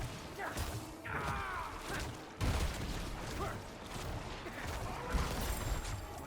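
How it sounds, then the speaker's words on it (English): Chaotic Diablo 4 combat with repeated corpse explosions, thuds and whooshing blasts layered over a dense, busy mix of effects. "the auto corpse explosions are pretty fun"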